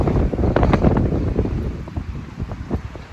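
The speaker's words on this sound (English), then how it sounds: "That was some really heavy wind." Heavy night wind gusts roar and buffet loudly against the microphone outdoors near trees, a continuous rushing blast that eases slightly toward the end.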